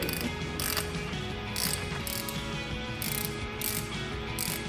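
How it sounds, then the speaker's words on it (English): Ratchet wrench clicking steadily while bolts are tightened down on the engine of a 1949 Cessna 140A, a close mechanical rattle of pawl clicks with clinking metal, no talk. "We'll hand tighten them and then I'll tighten them all down and we'll torque them."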